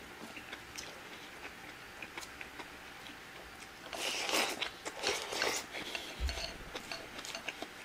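Someone eats chicken katsudon close to the microphone, with soft, irregular crunching bites and chewing that grow louder partway through, over a quiet room.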